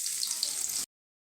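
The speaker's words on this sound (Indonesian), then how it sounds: "ini kita goreng bawang merah buat taburannya supaya makin wangi dan tambah sedap" Shallots frying in oil for a crispy garnish, a steady bright sizzle and crackle that fills the short moment close up, then cuts off abruptly into silence.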